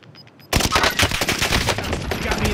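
Rapid automatic gunfire in a video game shooter match bursts in suddenly after a quiet moment and continues as a dense, loud, sustained stream of shots close by.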